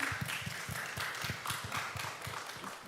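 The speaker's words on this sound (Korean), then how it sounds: "주님께 영광의 박수 올려드립니다." A congregation applauds during a church worship service, with steady, rhythmic claps repeating at an even pace for a few seconds and a faint room hum underneath.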